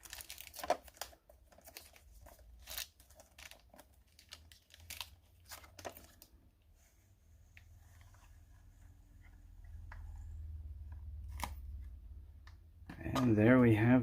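Cardboard packaging for a Mad Ball van toy crackles and tears in quick, close bursts of scraping and ripping, fading to soft rustling with a low hum before a louder buzzing scrape at the end.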